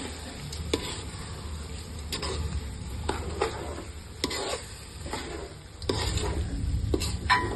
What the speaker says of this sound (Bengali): এখন ভালোভাবে নাড়াচাড়া করে নেব,